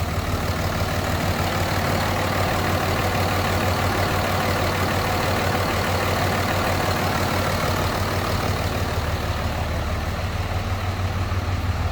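A 2004 Dodge Ram 3500 Quad Cab dually pickup engine idles steadily and smoothly for the whole stretch, a constant low rumble with a broad hiss on top, close by, without voices.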